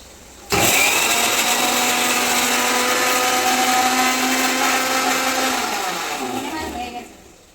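A blender mixes ingredients for a katla fish dish in a home kitchen, starting abruptly with a loud, steady whirring roar that holds for several seconds before slowing and winding down at the end.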